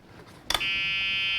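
Reverse warning buzzer on a Club Car DS golf cart converted to LiFePO4 batteries, sounding a loud, continuous high electronic tone after a click as the cart is switched into reverse, close by.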